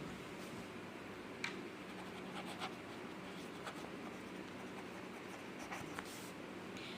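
Faint scratching of a pen writing notes by hand, soft strokes and occasional light taps over a steady hiss, with no voices.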